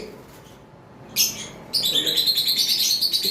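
Blue fischer opaline lovebirds chirping close by, a short burst followed by a steady run of rapid high tweets.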